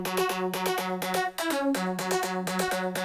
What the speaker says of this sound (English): Then we have a top lead, which is a detuned saw,